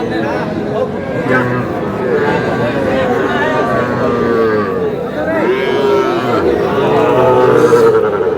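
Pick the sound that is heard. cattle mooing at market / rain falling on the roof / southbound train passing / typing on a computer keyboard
cattle mooing at market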